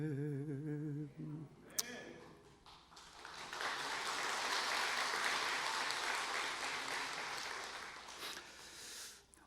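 Korean church congregation breaks into applause after a brief sung or spoken moment, clapping swelling to a broad steady wash before easing off.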